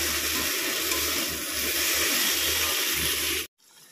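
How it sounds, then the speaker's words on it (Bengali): Water is poured into a pan of eggplant curry cooking in spice masala, a loud steady rush and sizzle lasting a few seconds before cutting off abruptly. "সামান্য পরিমাণে জল দিয়েছি"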